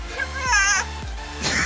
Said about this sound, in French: Bon, on est rendu une chèvre.